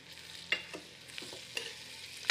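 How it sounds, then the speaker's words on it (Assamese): Onions fry quietly in a pan with a soft background sizzle, broken by a few sharp utensil clinks and scrapes of stirring. "পিঁয়াজখিনি ভাজি আছোঁ বৰ্তমান"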